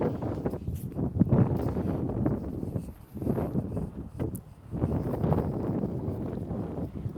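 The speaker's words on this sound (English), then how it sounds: "It's getting a little windy down here by the lake and a little nippy" Gusty wind by a lake buffeting the microphone in long roaring swells, dipping briefly before surging again, with no voices.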